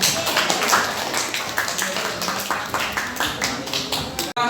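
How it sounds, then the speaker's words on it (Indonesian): Classroom of students clapping together after a lesson, a dense run of quick hand claps that fills the room at steady loudness and ends abruptly. "tepuk tangan buat kalian semua"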